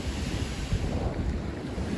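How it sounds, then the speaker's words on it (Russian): Sea waves wash in beneath a hollow rocky spot on the Crimean coast, a steady rushing surge of water mixed with gusting wind buffeting the microphone, with no voices. "Волны туда же заливаются"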